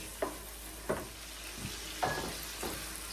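Aromatics sautéing in a pan for Jamaican ackee and saltfish, with soft stirring scrapes and a low sizzle, a few distinct clattering strokes spaced through the stretch.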